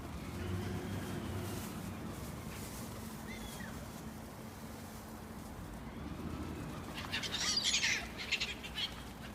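Seagulls by the River Cart in Scotland, a few distant, faint calls rising briefly over steady outdoor wind and water noise.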